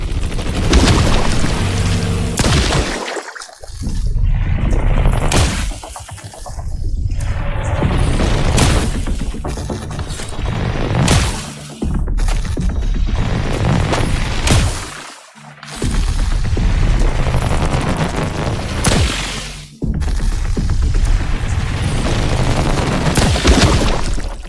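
In the video game The Last Caretaker, a rifle fires in loud rapid bursts with booming explosions. Heavy blasts come back to back, broken by a few brief lulls.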